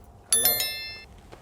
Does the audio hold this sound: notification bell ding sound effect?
yes